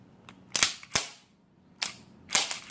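An Ed Brown Special Forces 1911 pistol is cleared by working the slide, giving four or five sharp metallic clacks and snaps in irregular pairs, close and crisp against quiet.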